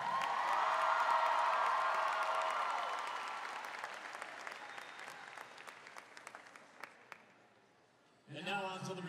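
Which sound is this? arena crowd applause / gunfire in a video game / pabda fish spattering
arena crowd applause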